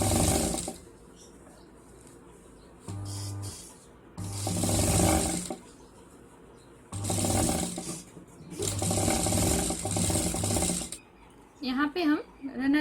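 Sewing machine press-stitching along a zipper on a homemade school bag, several bursts of steady whirring separated by pauses, close and fairly loud, with quiet handling noises between runs.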